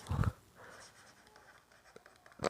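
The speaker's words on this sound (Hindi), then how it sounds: "मैं लिख रहा हूँ, आप भी लिखेंगे ये" Pen scratching across paper in a short burst, faint and close, with a couple of louder taps or strokes at the start and end and quiet pauses between.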